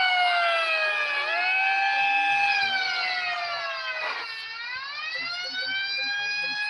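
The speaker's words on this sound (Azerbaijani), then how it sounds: "Polis maşını var." A police car siren wails loud and close in a Turkish-speaking setting during a taxi drive, its rising and falling tone sweeping steadily throughout with a dip near the middle.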